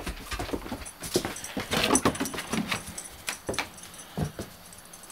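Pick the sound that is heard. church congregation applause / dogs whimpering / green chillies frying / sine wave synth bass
dogs whimpering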